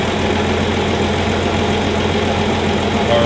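A 1965 Plymouth Valiant Slant 6 engine with a junkyard exhaust manifold, junkyard intake manifold and reman carburetor running steadily, a loud, close, continuous idle rumble with an even mechanical rhythm.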